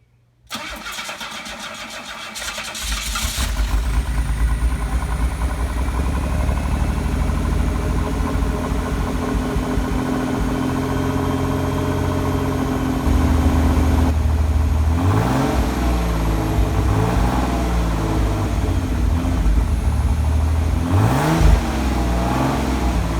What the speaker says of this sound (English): let me get a close-up of the tailpipes when I start it